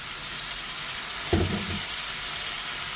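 Tomatoes frying in a pan for egg curry, a continuous close sizzle with a brief louder burst of spatter and stirring in the middle.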